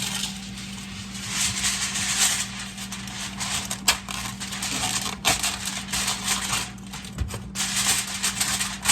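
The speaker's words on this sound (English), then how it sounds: "now we're gonna come back over the top of this with some aluminum foil, cover it" Aluminum foil crinkles and rustles steadily while being spread over a cheese-topped casserole dish before baking, a close, continuous papery crackle with a few sharper crunches and no talk.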